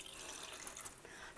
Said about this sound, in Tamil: இப்போ தண்ணி கொஞ்சம் அளவு கொஞ்சம் நம்ம ஊற்றணும்.